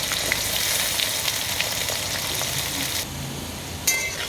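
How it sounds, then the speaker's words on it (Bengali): Potatoes frying in a pan for a banana-blossom and sun-dried rice dish, a bright continuous sizzle close by that eases off for a moment, followed by a short clatter at the end. "আলুটা আমি প্রায় তিন মিনিট এখানে ভাজলাম"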